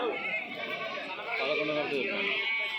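Several large goats bleat in a dense, overlapping chorus close by at the Kadiri weekly livestock market, with voices chattering underneath throughout.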